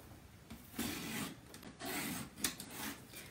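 A paper trimmer slices a sheet of cardstock in a few short scraping, rasping strokes separated by brief pauses, close and fairly quiet.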